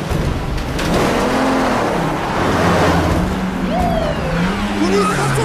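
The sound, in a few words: police vehicle driving in motion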